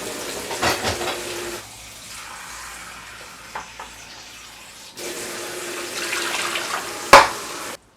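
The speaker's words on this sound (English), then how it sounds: "Just going to add some cold water." Water runs from a tap in a steady hiss, stops briefly, then flows again, with a sharp clink near the end.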